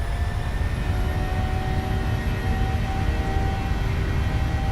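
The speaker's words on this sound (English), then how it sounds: "Takeoff power set." Airliner jet engines roar steadily at takeoff power in a flight simulator, a dense continuous rumble with a faint whine layered above it, holding constant throughout.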